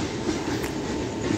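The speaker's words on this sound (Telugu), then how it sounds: "ఇంకో ట్రైన్ వస్తుంది చూడండి" An MMTS local train in Hyderabad rolls past on the line, a loud continuous rumble with rail clatter heard close by and alone.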